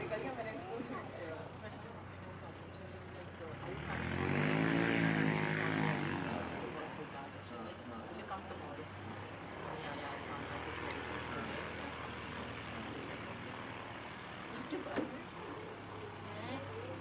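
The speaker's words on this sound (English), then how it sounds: "Just waiting for a wee Piper Archer to come in. Looks like it's coming on the main runway," Small Piper Archer propeller plane coming in to land on the main runway at Christchurch Airport, its engine drone swelling from a distance to a peak then fading, over steady airport background hum with people chatting.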